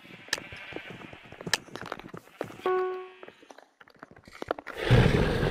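Sheep bleats from a Minecraft-style minigame come in short bursts amid footsteps and game effects, with a brief tonal cue midway and a louder rumbling burst at the end.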